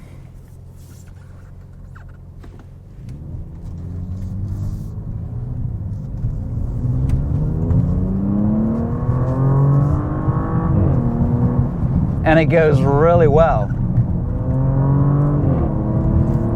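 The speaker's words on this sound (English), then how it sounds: "And I think you can probably hear that exhaust in the back." A 2023 Audi S6 accelerates from inside the cabin, its exhaust a steady, rising drone that grows louder over several seconds, with someone speaking over it.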